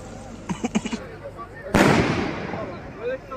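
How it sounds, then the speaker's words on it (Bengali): Firecrackers burst at the opening of a district book fair, first a quick run of sharp pops, then one loud blast that fades into a long rumbling tail, heard with crowd noise and voices in the background. "জেলা বইমেলার উদ্বোধনের বাজি ফাটানো হলো"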